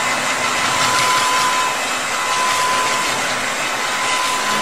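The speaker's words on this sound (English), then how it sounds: "Yoshi dried her hair with a blow dryer." A blow dryer drying hair in a children's cartoon gives off a steady, loud, even whoosh of air with a faint motor hum, running alone without any talk.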